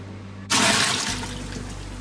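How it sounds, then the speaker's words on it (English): Salt-brined cucumbers being rinsed under a tap: water suddenly gushes on after a brief low hum, running loud and steady nearby as it splashes over them. "I'm just gonna give these a really good rinse because they have been soaking in salt water"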